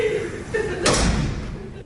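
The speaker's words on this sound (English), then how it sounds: "As the door shut" A courtroom door slams shut with a single loud, heavy thud roughly midway through, over steady nearby talking.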